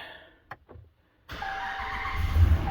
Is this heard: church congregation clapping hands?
no